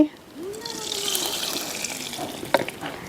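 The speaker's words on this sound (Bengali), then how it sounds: "এত বড় বোতলে আমি তেল নিয়েছি আজকে এই যে ঢেলে দিচ্ছি" Cooking oil glugs and streams from a large bottle into a pan outdoors, a steady liquid pour lasting a few seconds with a small splash near the end, a voice talking faintly underneath.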